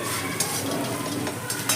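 Masala being stirred in a kadai for shahi paneer, a close scraping and scuffing with a soft sizzle beneath and a couple of sharper scrapes near the end.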